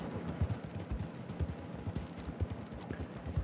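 Hooves of an English thoroughbred horse in a Western-style open-world video game, trotting in a steady clip-clop rhythm of soft, fairly close thuds, with no other sounds over them.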